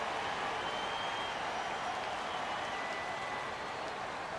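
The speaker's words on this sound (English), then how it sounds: "The crowd is roaring." An arena crowd roaring in the basketball game NBA 2K24, a dense, steady wash of cheering and applause throughout at constant loudness.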